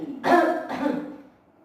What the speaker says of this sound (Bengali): এই জোরে কাশি দে